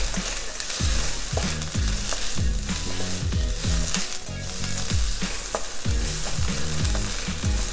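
Shallots and green onion being stir-fried together in a hot pan, with a loud continuous sizzle and rhythmic scraping stirs repeating throughout.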